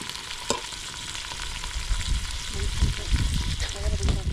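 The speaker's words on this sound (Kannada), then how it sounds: "ಟೊಮೆಟೊನು ಸಹ ಈಗ ಚೆನ್ನಾಗಿ ಫ್ರೈ ಮಾಡ್ಕೊಳ್ಳೋಣ" Tomatoes frying in a pan for a military-hotel-style goat head curry, a steady close sizzle with scraping stirs and light clinks that grow busier and louder toward the end.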